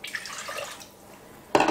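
Water pours into a pot for a stovetop butter-and-milk mixture for hamburger buns, a short trickling splash that stops, with a sharper burst of liquid noise at the end.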